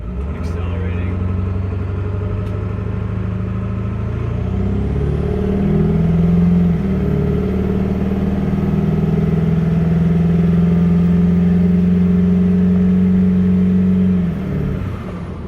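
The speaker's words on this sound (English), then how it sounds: "So this is what it's gonna be like with foot to the floor, accelerating." Diesel truck with an 8-inch smoke stack accelerating at full throttle, heard from inside the cab with windows shut, a loud continuous engine drone rising in pitch through a long pull and easing off at the end.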